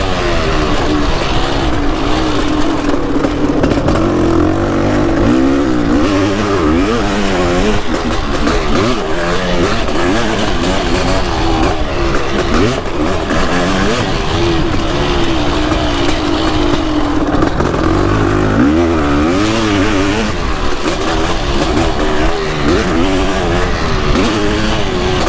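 A Kawasaki KX500 two-stroke dirt bike engine revs loudly and continuously up close, its pitch rising and falling through repeated throttle blips with no pause.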